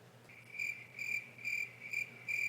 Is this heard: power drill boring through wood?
no